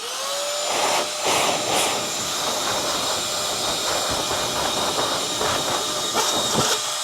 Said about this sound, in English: So it's multi-purpose, and it's a wet and it's a dry vac